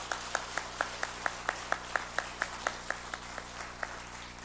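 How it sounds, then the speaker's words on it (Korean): Hands clap together in a steady, evenly spaced beat of about four claps a second, soft and somewhat distant, right after a New Year countdown at a year-end church service. "우리 박수"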